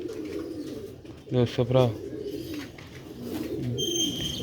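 Sialkoti pigeons of the red-pearl variety cooing on a rooftop: a short burst of throaty rolling coos in the middle, with someone talking over and around it.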